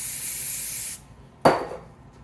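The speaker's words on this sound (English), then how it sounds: "Now, what I do is I take a little brake clean." Brake cleaner sprayed onto an engine valve of a Subaru 2.5 SOHC, heard as a close, loud aerosol hiss for about a second, then silence and one sharp knock or burst.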